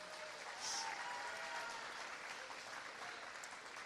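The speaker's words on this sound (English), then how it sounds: "Please give her a big round of applause." Sustained audience applause at a high school graduation ceremony, a dense wash of clapping that holds steady and fairly loud throughout with no pauses.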